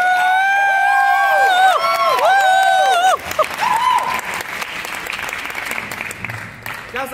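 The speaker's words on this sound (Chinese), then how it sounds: "掌声鼓励一下" At a BNI business networking meeting, a wavering, sustained tonal sound gives way to loud audience applause mixed with some cheering, which then thins out.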